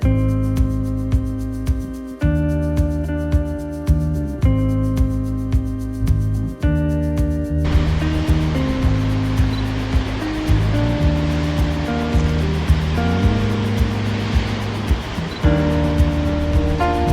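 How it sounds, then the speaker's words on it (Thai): Heavy ocean surf breaks along a New Zealand coast under cloudy skies. A steady wash of waves rises in the second half beneath loud, sustained background music. "คลื่นหนักมาก"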